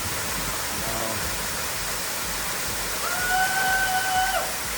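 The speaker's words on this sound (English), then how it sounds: "Argyle Falls is a series of 3 main waterfalls with a 4th one that is much smaller at the very top and out of view." The Argyle Falls, a series of three main waterfalls with a smaller fourth one, make a constant rushing roar. A brief high whistling tone rises over the roar near the end.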